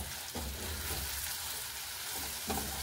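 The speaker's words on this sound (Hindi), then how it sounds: "तो चलिए इसे एक बार चला लेते हैं अच्छे से। तो लो फ्लेम पर हमें कर देना है" Kalonji masala frying over a low flame while being stirred, a steady soft sizzle with a few brief scraping strokes, close and unbroken by talk.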